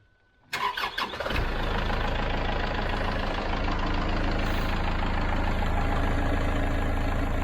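A Kubota tractor engine cranks after a moment of quiet, catches with a few uneven bursts, then settles into a steady, loud diesel idle that continues to the end.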